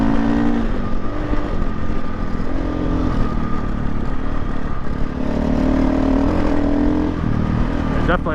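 A KTM dirt bike engine, likely the 500 EXC-F, revs hard and close with a continuous buzzing drone, the pitch swelling and dipping with throttle over the whole stretch.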